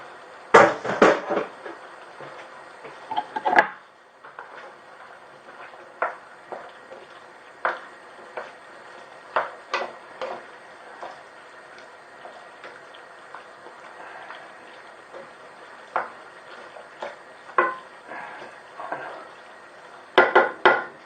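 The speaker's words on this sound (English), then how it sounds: "So I'm going to add my kidney beans now into the pan. Give that a good stir." Scraping and clinking of a spoon stirring kidney beans in a pan for chilli con carne, irregular strokes with soft pauses, close by, no talking.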